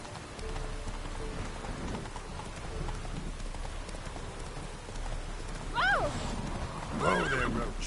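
The horse Roach in The Witcher 3, hooves clip-clopping under steady rainfall, with two sharp neighs near the end breaking over the patter of rain.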